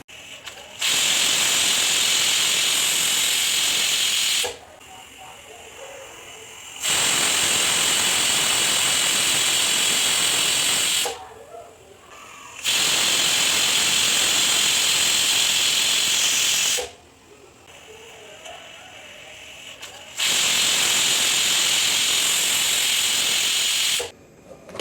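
Pressure cooker on the stove cooking country chicken curry releases loud, steady steam hisses in four long bursts of several seconds each, with quieter gaps between them and no talking.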